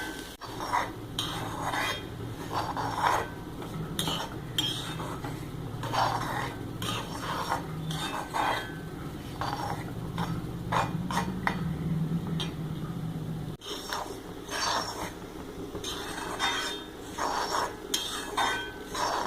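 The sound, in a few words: stirring coconut roasting in a pan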